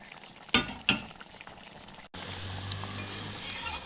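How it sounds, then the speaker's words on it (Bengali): A pan of charapona fish chorchori curry: two sharp utensil clinks against the pan, a brief hush, then a steady bubbling hiss of the curry boiling. "এই দেখুন ফুটে উঠেছে"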